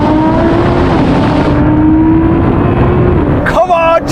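Nissan GT-R, tuned to 700 hp, accelerates hard in a drag race against a Lamborghini Performante and a Cayenne Turbo GT, its engine a loud, sustained, rising drone; a voice cuts in near the end.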